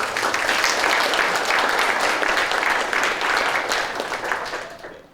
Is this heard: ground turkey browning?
no